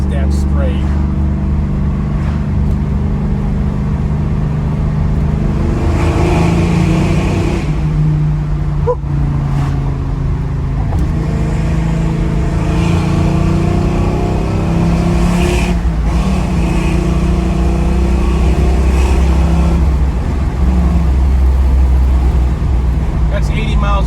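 A 1966 Ford Mustang engine revs and pulls hard on the road, its pitch climbing through the gears with brief dips at the shifts, loud and close under someone talking.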